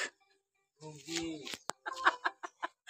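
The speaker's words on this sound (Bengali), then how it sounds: "একটা দেশি মোরগ নিয়ে আসছে।" A native rooster clucks in short, close bursts, with a few broken calls heard amid voices talking in the room.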